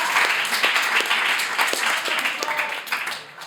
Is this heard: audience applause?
yes